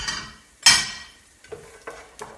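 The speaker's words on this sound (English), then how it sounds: "I've got a tiny bit of fresh oil in there, and I'm just start to brown my onions" Onions browning in a little fresh oil in a pan give a soft hiss broken by a louder stirring scrape, then a few quiet, evenly spaced taps of a utensil.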